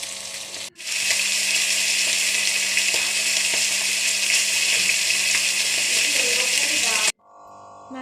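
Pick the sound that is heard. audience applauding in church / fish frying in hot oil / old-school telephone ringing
fish frying in hot oil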